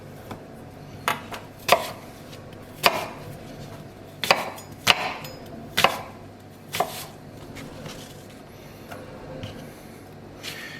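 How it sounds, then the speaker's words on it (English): A knife chops an apple into small pieces on a board, giving about ten sharp, fairly close cuts in an uneven rhythm over a quiet kitchen background. "I'm just going to cut the apple into small pieces"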